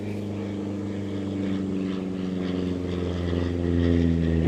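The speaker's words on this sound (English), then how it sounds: "Well, there's a plane." A low-flying propeller airplane comes in to land near a runway beside the Potomac River. Its steady engine drone and harmonic hum hold throughout and grow slightly louder as it nears, with no talk over it.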